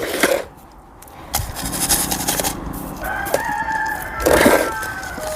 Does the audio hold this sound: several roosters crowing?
yes